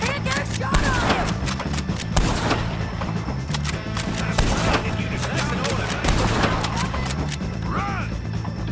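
Gunfire from the Red Dead Redemption 2 video game: a dense, steady fusillade of shots and impacts runs throughout over a low droning backdrop, with shouted voices surfacing now and then.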